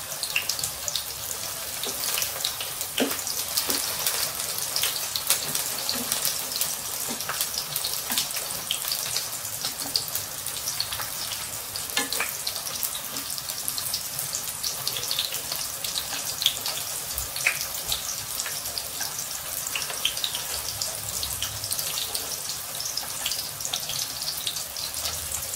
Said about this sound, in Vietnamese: Đậu thì mình chiên vàng giòn hết tất cả các mặt.